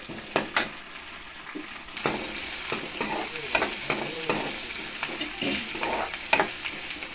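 Chopped onions frying in hot oil for a tempering base of a bottle gourd and dried fish curry, a steady close sizzle that grows louder partway through, with scattered clinks and scrapes of stirring and no talking.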